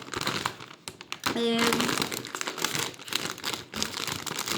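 A plastic Bro cheese snack bag from Egypt is torn open and handled, giving dense, close crinkling and rustling with a brief tearing burst in the middle.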